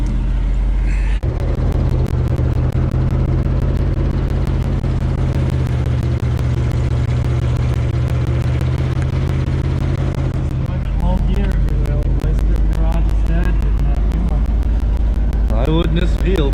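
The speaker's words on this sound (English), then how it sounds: "Now we've got Jeff driving the big Ford." A 1973 Ford F-250 fitted with 37-inch military tires drives through a snowy field, its engine a loud continuous rumble up close, with people talking over it.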